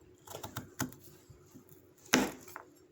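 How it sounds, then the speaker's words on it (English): A knife cuts up potatoes on a board: a handful of faint, sharp, irregular taps and thuds close by, with one louder chop near the end and no talking. "Now we're going to just cut it up."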